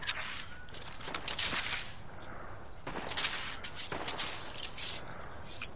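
Several sharp gunshots in the video game Fortnite crack out in uneven bursts, with scattered clatter and shuffling between them, fairly loud against a quiet background.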